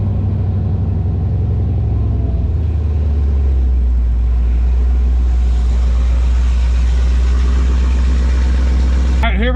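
A 1000 HP Jeep Trackhawk idles with a deep, loud rumble while lining up for a drag race against a Whipple F150, the low drone shifting pitch partway through and a brief squeal at the end.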